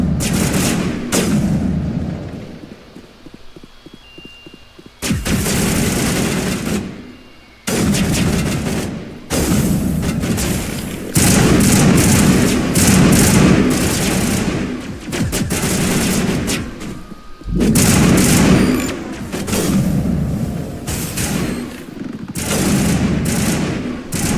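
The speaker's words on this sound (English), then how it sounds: "What are you two shooting at?" Bursts of gunfire from a firefight against geth in the video game Mass Effect, loud, close and sustained, coming in repeated volleys separated by short pauses.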